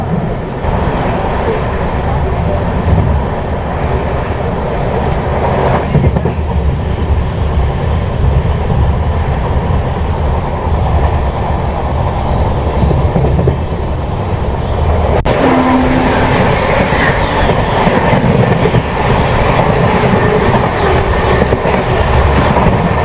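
The Amrit Bharat Express runs fast on rails between Erode and Jogbani, heard from on board as a loud, constant roar with rumble and clatter from the wheels.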